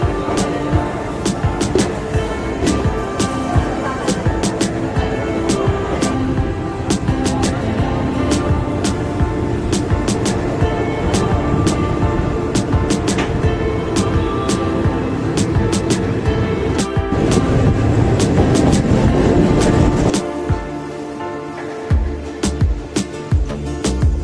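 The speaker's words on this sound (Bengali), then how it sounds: "এখন ডিপার্চার এনজয় করুন।" The 13415 Patna Express pulls out of Malda Town station with a loud, steady rumble of running gear and rhythmic wheel clicks that carry on without a break before easing off near the end.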